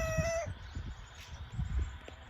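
A rooster's crow rises briefly at the start, then gives way to low rumbling and scattered background noise.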